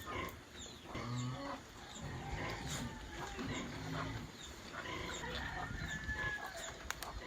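Farm livestock, pigs waiting to be fed in the afternoon on a rural hillside farm, make a continuous noisy din of overlapping grunts and calls, with other farm animals and birds mixed in.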